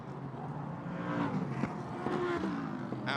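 LMP3 prototype race cars at the Sepang circuit during an Asian Le Mans Sprint Cup race, engines droning and revving at a distance with a continuous mechanical hum and a few shifting pitch changes.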